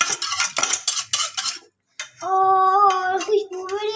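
A spoon clinks and scrapes against a cup while stirring sugar into a hot chocolate and coffee mixture, with quick metallic taps in the first half, a short pause, then a steady tonal ringing swirl.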